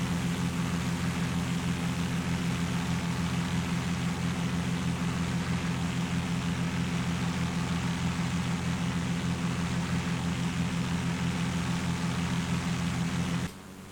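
Steady, loud piston-engine drone from a twin-engine Carenado Beechcraft Baron B58 in the X-Plane 10 flight simulator, holding an even tone for most of the stretch before dropping off sharply near the end.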